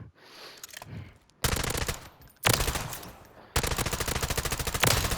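Automatic assault rifle fire from a Modern Warfare 2 gun in the video game Warzone, loud, close bursts that stop and start, with long rapid strings of shots and brief gaps between them.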